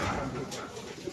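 Pigeons coo softly inside sectioned loft compartments of a racing pigeon loft, a low murmuring heard under nearby talking.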